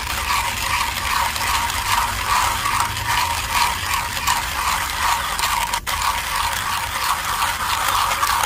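Ethiopia Guji coffee beans being ground in a coffee grinder, a steady, dense mechanical whirr and rattle running continuously and loud for the whole stretch, with no talk.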